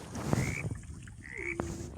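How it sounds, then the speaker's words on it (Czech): Frogs croak in the forest of the video game 99 Nights in the Forest, a couple of separate rising calls standing clear over a soft background hiss. "Žaby."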